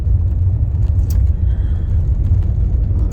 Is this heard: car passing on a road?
yes